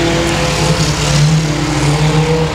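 Ford Focus race car engine roaring loud and close at Boothill Speedway dirt track, a sustained revving drone with shifting pitch and no voices.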